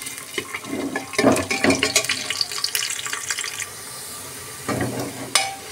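Onion and garlic frying in a pan for khichdi, with bursts of sizzling and stirring scrapes that come and go, pausing in the middle before resuming near the end, no voices.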